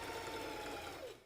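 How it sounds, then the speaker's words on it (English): A sewing machine stitches along fabric near a 5/8 seam allowance, a close steady whirring hum lasting about a second before slowing to a stop. "So you put your fabric on the 5/8 on your sewing machine. And just sew along"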